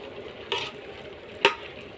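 Rice stirred on a hot dosa griddle, with a soft background sizzle and three brief scraping strokes of a spoon against the pan, the last two sharper and louder.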